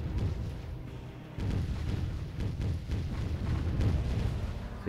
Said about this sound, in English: Except for those mortars that are firing, those aren't actually mortar pits. They're vehicles.